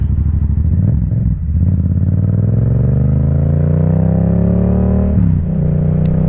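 Motorcycle engine droning loud and close while riding on a sunny New Year's Day, with steady throttle, a couple of brief dips around gear changes, and pitch climbing gradually as speed builds.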